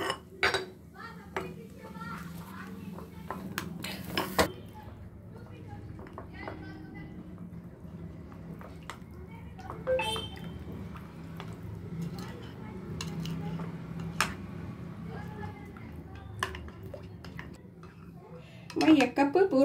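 A spoon stirs vanilla custard into milk in a pot with light scraping and clinking against the metal, soft irregular taps throughout and a louder clatter near the end, while someone talks over it.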